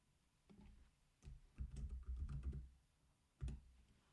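Someone types a name on a computer keyboard, several quiet, close key clicks in short bursts with pauses between them and no talking.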